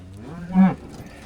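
A single short, low moo from a cow among bulls rises out of steady background noise, fairly close and over within a second.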